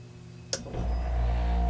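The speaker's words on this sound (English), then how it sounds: "There's the compressor." An air conditioner compressor kicks on with a sharp click, then a deep hum swells and settles into a steady, loud drone close by.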